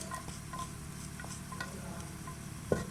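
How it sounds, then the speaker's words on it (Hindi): Onions tipped into hot oil in a pan for keema naan give a soft, steady frying sizzle with faint stirring taps and one brief clunk near the end, quiet and close. "ये हम इसके अंदर प्याज डाल रहे हैं।"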